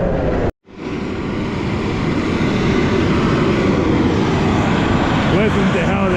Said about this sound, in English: Listen to how they're revving the shit out of that truck.